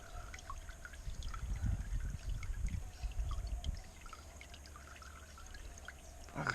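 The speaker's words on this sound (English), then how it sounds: "let me get this water out first" Water glugs and trickles as it is tipped out of a tumbler, a faint close pour that swells for a few seconds then thins to a quiet dribble.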